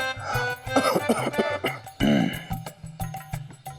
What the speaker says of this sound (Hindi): इतने दिनों से खांसी है।